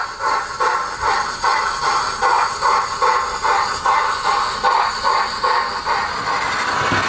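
A model Flying Scotsman steam locomotive with a steam generator chuffs steadily along its track, with a rhythmic beat of about two puffs per second over a constant hiss.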